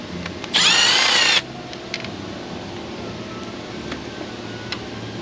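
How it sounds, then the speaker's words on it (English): Power tool buzzing for under a second as it spins a fastener out of a Duramax 6.6 diesel engine, one close, loud burst followed by faint clicks and background hum. "let's just pull all these fasteners out, set them aside"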